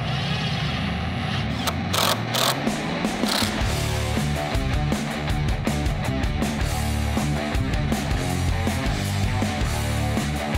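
Clamps are screwed tight against a wooden back panel, producing a close, busy run of ratcheting clicks and mechanical rattles in quick bursts across the whole stretch.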